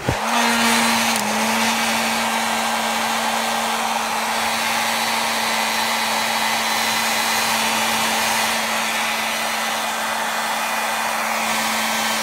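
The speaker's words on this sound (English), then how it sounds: "maybe plug this hair dryer in" A hair dryer switches on and runs continuously nearby, a loud steady whoosh with a constant motor whine throughout.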